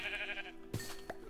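Sheep bleating in the Minecraft modpack RLCraft, a couple of brief calls in quiet surroundings, fairly close and not loud.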